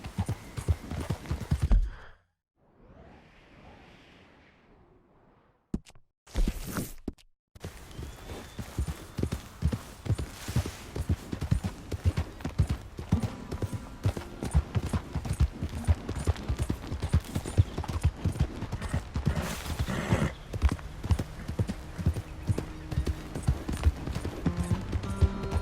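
In the video game Red Dead Redemption 2, a horse's hooves clip-clop in a steady rhythm that builds after a short pause and carries on close and prominent to the end, with no talk.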